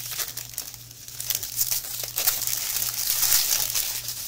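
Plastic packaging crinkles and crackles during the unboxing of a diamond painting kit, a close, steady rustle that grows louder toward the end over a faint low hum.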